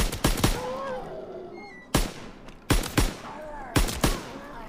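Gunfire in Call of Duty zombies mode: a burst of sharp shots up front, then three more separated single loud reports with ringing tails over a quiet game background.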